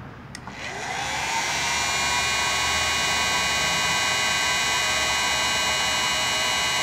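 A heat gun switches on and blows hot air onto a thermistor sensor from a Nissan D21, rising quickly to a loud, steady whooshing hiss with an electric whine that holds unbroken nearby.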